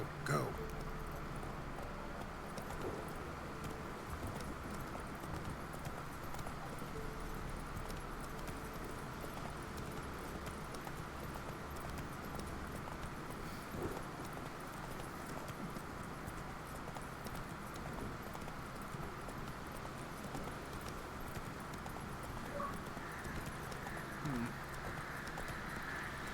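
Steady clip-clop of Roach, Geralt's horse in The Witcher 3, galloping along a road, a continuous rhythmic hoofbeat under game ambience, with someone speaking briefly over it.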